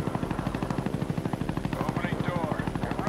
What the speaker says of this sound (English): Huey on the way.